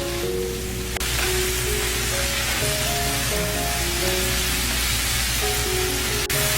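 Enoki mushrooms stir-frying over high heat with oyster sauce and cooking wine, a dense continuous hiss with faint tonal hum beneath and one sharp knock near the end.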